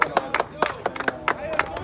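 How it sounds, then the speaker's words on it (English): Rhythmic hand clapping from spectators at a college baseball game between St Thomas University and Keiser University, a run of sharp claps at an even pace with voices mixed in. "This is that weak ass slow clap."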